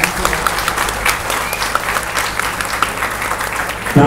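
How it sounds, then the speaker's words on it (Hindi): Loud crowd applause rings out at a folk singer's 39th birth anniversary event, a busy, uneven burst of many hands clapping close by that carries on without a break. "मैं चाहूंगा कि हम सभी तालियों का कोलाहल पहुंचा जहां भी है"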